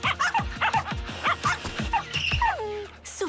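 Cartoon dachshunds yip and bark in quick, high-pitched bursts, close and loud, ending in a drawn-out whining whimper.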